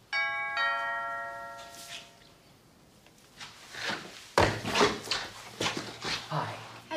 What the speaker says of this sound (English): Tom, your doorbell is still ringing